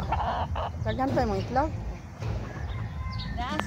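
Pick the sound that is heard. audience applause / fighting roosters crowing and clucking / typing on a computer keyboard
fighting roosters crowing and clucking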